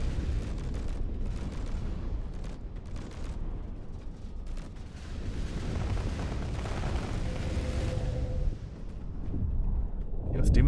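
Heavy weapons fire and explosive booms roll through a Space Engineers PvP tournament battle as ships trade long-range fire, a dense, continuous barrage with a commentator's voice running over it.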